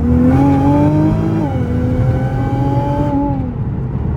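A 2016 Jaguar F-Type R, a rebuilt wrecked car, accelerates hard with a loud, close exhaust note that climbs in pitch, dips at a gearshift and climbs again, then drops away near the end.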